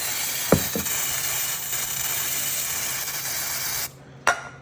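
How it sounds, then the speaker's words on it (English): Brake cleaner sprayed from an aerosol can into the filter housing of a Kioti CK2510 compact tractor: a steady, close hiss for about four seconds, opened by a couple of sharp clicks, then a brief final burst. "A little bit of brake clean won't hurt it."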